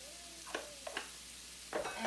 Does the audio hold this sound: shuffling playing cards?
no